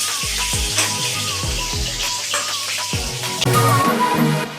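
Potatoes frying in hot oil in a home kitchen while a Bengali katla fish-head muri ghonto is being cooked: a steady, close sizzle with repeated spatula scrapes and clinks against the pan, growing louder near the end.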